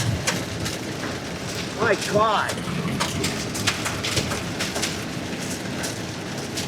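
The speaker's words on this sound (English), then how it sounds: "It almost sounds like it's hailing." Hail and heavy rain drum steadily on a car during a severe storm, a dense loud patter with sharp hits throughout, while people talk and exclaim over it inside.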